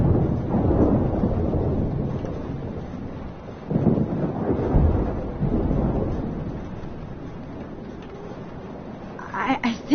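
Low rumbling thunder rolls through a stormy scene in the video game Life is Strange, heavy swells rising and fading under steady wind and rain.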